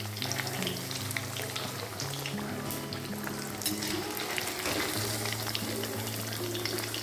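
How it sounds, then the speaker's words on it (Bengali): Paneer fries in hot oil in a home kitchen, a soft continuous sizzle running throughout with a low tonal melody playing in the background. "আমার পনিরটাও হয়ে গেছে ভাজা।"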